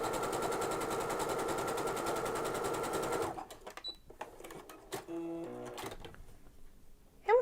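A sewing machine with an overcast foot stitches along a fabric edge in a steady, loud, fast whir for about three seconds, then stops, leaving scattered clicks and light handling sounds.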